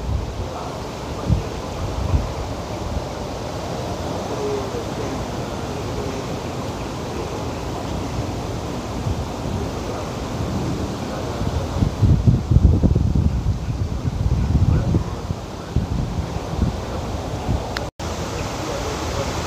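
Strong wind at Mount Faber Park in Singapore buffets the microphone in a continuous low roar, with louder gusts midway and a faint rustle of leaves throughout and no talking.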